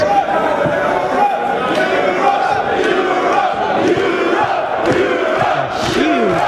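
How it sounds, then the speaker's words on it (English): A crowd at a Mosconi Cup pool match buzzes and cheers after a shot, loud sustained roar and chatter with a commentator talking over it. "And our crowd is a buzz."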